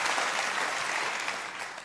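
Audience applause for Melanie, a long-serving bakery counter worker, at a comedy cabaret show: dense, steady clapping that fills the whole stretch and fades slightly at the end, with no voices on top.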